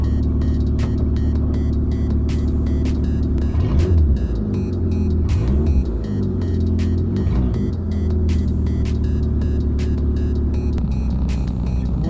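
A Citroën Saxo 1.1i engine runs at idle after long disuse, a steady low hum with a brief rise and fall in revs, plus a regular ticking clicking throughout, close by with no talking.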